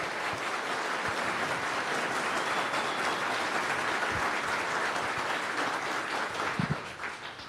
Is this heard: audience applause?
yes